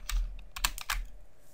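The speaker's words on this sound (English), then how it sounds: "you can press Control Alt V all at the same time, these three keys at the same time" Several computer keyboard keys clack in a short burst as the Control, Alt and V shortcut is pressed, a handful of close, crisp taps with no talking.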